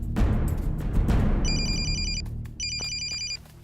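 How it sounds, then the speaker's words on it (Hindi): A phone rings with two bursts of a bright, rapid electronic trill, heard after a stretch of low rumbling background noise and clattering. "एक मिनट भाई, फोन आया।"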